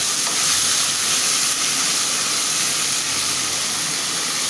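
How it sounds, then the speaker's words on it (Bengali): Spice paste sautés in a pan for a prawn and kalmi greens dish, a loud, continuous close-up sizzle and hiss that holds steady throughout with no voices. "আমি মশলাটা সুন্দর করে কষিয়ে নেব"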